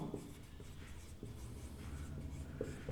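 Pen or marker scratching out a physics formula on a board, soft irregular strokes heard close and fairly faint, with no voices.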